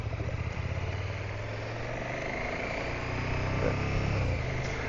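A KTM 1290 GT motorcycle engine idling out in the Northern Territory, a steady low throbbing hum with slight swells in level, faint and unbroken by speech.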